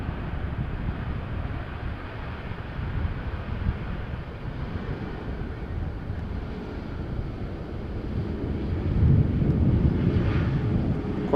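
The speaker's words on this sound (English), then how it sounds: "A320neo arriving from Reykjavik" An Airbus A320neo arriving from Reykjavik touches down at Amsterdam Schiphol in a strong post-storm crosswind, its steady engine rumble and wind noise swelling louder near the end.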